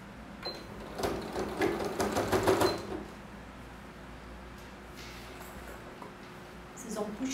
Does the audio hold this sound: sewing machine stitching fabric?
yes